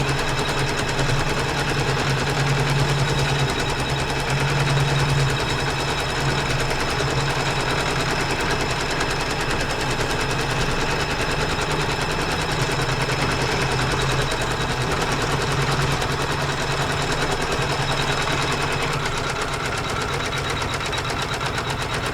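A sewing machine stitches a quilt block at low speed, producing a steady, even mechanical rattle up close that runs continuously without pause.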